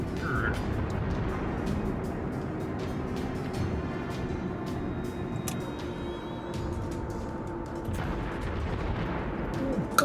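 Battleship main guns fire in World of Warships, a series of sharp booming shots spaced across the stretch over a low rumbling background, with distant impacts.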